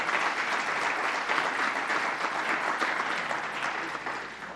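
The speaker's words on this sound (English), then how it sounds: "a big round of applause for our AP Scholars as well as our National Merit Commended Scholars" A room at a school board meeting fills with steady, fairly quiet clapping for AP and National Merit scholars, an even patter of many hands that tapers slightly toward the end.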